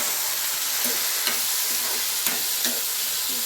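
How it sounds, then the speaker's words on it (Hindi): Spices frying in hot oil in a pan for a tempering (tadka) for a radish and sponge gourd curry, a constant close sizzle with a few light stirring taps, no talking. "तड़का लगा रहे हैं"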